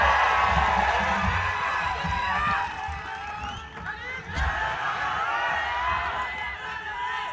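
A rally crowd cheers and shouts for Imtiaz Jaleel, a loud continuous roar of voices and whoops with excited cries rising and dipping throughout.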